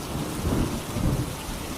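Cartoon rain falls in a steady, hissing wash while low thunder rolls and swells twice in quick succession, filling a short, dense stretch without voices.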